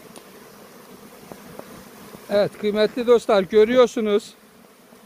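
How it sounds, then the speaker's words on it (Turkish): Honey bees hum steadily around a beehive at an apiary in Aşkale, a soft constant drone close by, while someone speaks over it for a couple of seconds. "Vızıltıyı da duyun."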